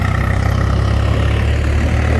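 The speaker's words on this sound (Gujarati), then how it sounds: "ટ્રેક્ટરવાળો બહુ અવાજ કર રહા है रे" A Mahindra tractor engine runs steadily nearby, a loud, continuous low rumbling idle without a break.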